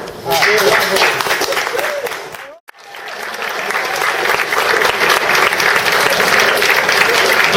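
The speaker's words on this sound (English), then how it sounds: "Don't stop clapping. Don't stop clapping." A live audience claps loudly at a seminar on shoulder mechanics. The dense applause breaks off abruptly for a moment partway through, then rises again and carries on.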